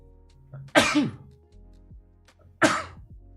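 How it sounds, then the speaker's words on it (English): Two loud sneezes, close to the listener, about two seconds apart, each a sharp burst followed by a quick fade. "sorry about sneeze"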